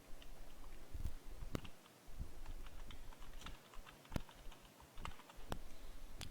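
Keys on a computer keyboard are tapped in sparse, irregular clicks while a table of contents is typed into a document, with short pauses between strokes over a steady low room hum.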